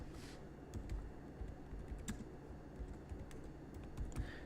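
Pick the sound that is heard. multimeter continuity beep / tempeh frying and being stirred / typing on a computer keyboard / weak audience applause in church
typing on a computer keyboard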